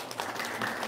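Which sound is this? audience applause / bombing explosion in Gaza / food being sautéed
audience applause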